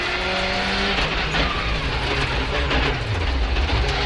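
Rally car engine from the Colin McRae rally video game, a loud continuous drone with shifting engine pitch and tyre noise through braking and cornering, with no talk.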